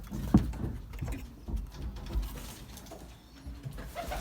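Belgian racing pigeons coo inside their loft, soft throaty calls repeating in low bursts over several seconds, near and moderately loud with faint background patter.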